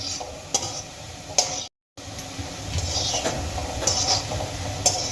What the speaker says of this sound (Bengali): এইভাবে কন্টিনিউ নাড়িয়ে চাড়িয়ে আমি এই বলগুলোকে ভালো করে ভেজে নেব যাতে করে সমস্ত দিক সমানভাবে ভাজা হয়